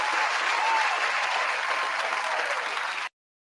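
Applause sound effect of a crowd clapping steadily and evenly for about three seconds, then cutting off abruptly into silence.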